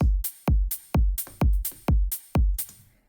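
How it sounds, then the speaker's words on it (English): Bright layered hi-hats in an uplifting house beat swell and cut off sharply in a steady pumping rhythm, sidechained to duck out on each kick hit, six pulses in quick succession. "then what I do is I sidechained both layers to the kick"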